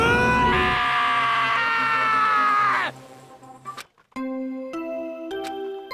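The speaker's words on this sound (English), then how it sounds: "I heard screaming" A scream from a character in the murder-mystery video game Danganronpa: Trigger Happy Havoc, loud and sustained for about three seconds with a strained, falling voice, followed by quieter chiming game tones and musical stings.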